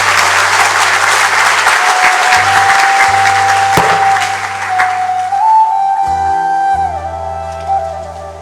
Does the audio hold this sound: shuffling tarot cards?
no